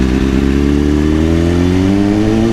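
A 2010 BMW S1000RR sportbike engine revs up steadily, loud and close, its harmonic whine climbing smoothly in pitch as it accelerates without pause.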